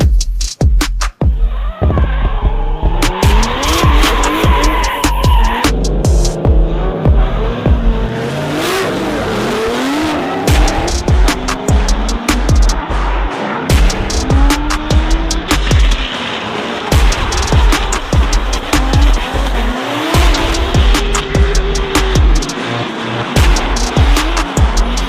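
An 800-horsepower Nissan S14 drift car with a 2JZ engine roars and revs hard through a long run, its tires squealing and burning out. The engine note rises and falls constantly and loudly, with no speech.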